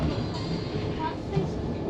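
Steady close rumble of a new B23 DLR train running on the Docklands Light Railway, a continuous rolling drone heard from inside with faint talk in the background.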